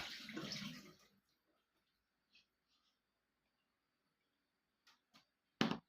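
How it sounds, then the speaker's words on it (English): Water is strained off cooked prawns in a kitchen, with a short burst of pouring and splashing at the start, then near silence broken by a few small knocks and a sharper clatter at the end. "Strain off my prawns so they're not soaking wet."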